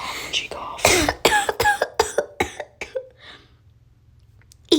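A woman coughs in a rapid burst of about ten harsh coughs that gradually weaken and trail off, followed by quiet breathing and a faint sound at the very end.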